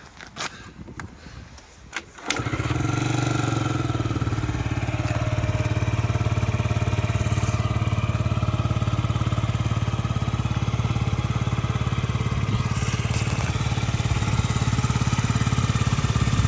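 A Yamaha Jog SA39 ZR fuel-injected scooter engine starts after some brief clatter and settles into a steady, even idle that runs on continuously, close by and without voices.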